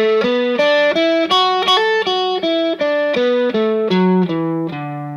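Electric guitar plays a quick major pentatonic scale lick of about twenty distinct picked notes in an even rhythm, bright and close, ending on a held low note, with no talking.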